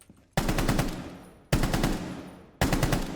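Three short bursts of automatic rifle fire with a compensator in Rainbow Six Siege, each a tight string of rapid shots followed by a fading tail, loud and close.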